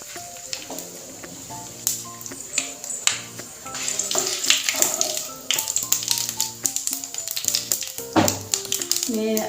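Fennel seeds, a few cardamom pods, cinnamon and a bay leaf fry in hot oil. Sharp crackles and pops sound under a louder tonal musical background throughout.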